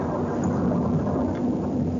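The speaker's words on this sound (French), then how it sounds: "comme vous pouvez entendre, il y a beaucoup de tonnerre ici" Thunder rumbles during a storm around a beekeeping site, a deep, sustained roll that fills the whole moment with no distinct claps and no talking.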